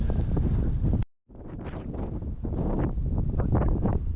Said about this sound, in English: It's super windy on top of the hill